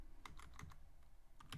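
Fingers type on a computer keyboard while coding a snake game in Python, giving quick, irregular clusters of light key clicks, close and quiet, with short pauses between bursts.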